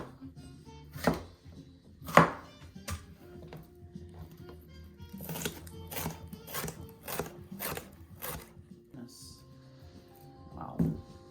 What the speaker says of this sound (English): And I love that I can chop some things up, move them over, and just keep chopping.